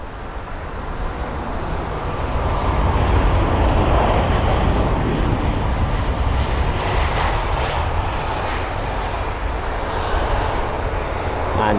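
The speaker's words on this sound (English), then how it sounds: "the British Airways A320" A British Airways Airbus A320 arriving at London Heathrow, its engine roar building over the first few seconds and holding as a steady, loud rumble as it passes fairly close.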